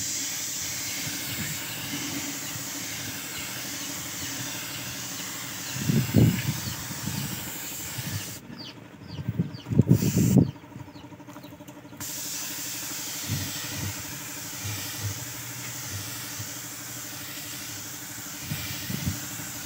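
Clear coat being sprayed over black paint for a marble effect, a steady close hiss with short louder bursts and brief pauses between passes.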